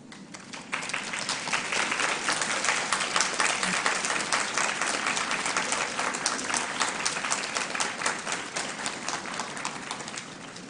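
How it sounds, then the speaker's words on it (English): A large convocation audience at an early childhood studies graduation stands and applauds, a dense, steady wash of clapping that begins just under a second in and holds loud and even throughout. "This would be a good time to stand and applaud those who have supported you along the way"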